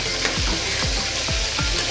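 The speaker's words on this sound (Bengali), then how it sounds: "আমার মাছগুলো প্রায় ভাজা ভাজা হয়ে গেছে" Fish fried in hot oil in a pan where the fish keep sticking, a steady loud sizzle filling the whole clip with several repeated scraping turns of a spatula, no talking.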